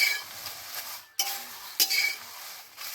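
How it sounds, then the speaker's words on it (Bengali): Home-dried bay leaves are fried in a pan, giving a quiet sizzle with light scraping, a sharp clatter of utensil against the pan partway through, and no speech. "আর এই তেজপাতাগুলো ভালো করে আমি ভেজে নিব"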